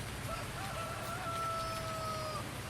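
Chickens and a rooster in Farming Simulator 19 give a drawn-out crowing call over a steady hum of in-game ambience, with faint clucks in the mix.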